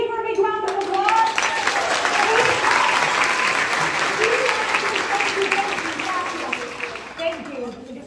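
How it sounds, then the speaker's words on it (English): An audience claps loudly and steadily for several seconds in a hall, with the applause fading slightly toward the end. "Can we give her a big round of applause?"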